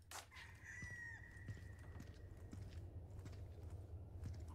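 Chickens in the video game Resident Evil 4 Remake let out one drawn-out, crowing-style call near the start, then a few soft, scattered clucks over a low ambient hum, all quiet and distant.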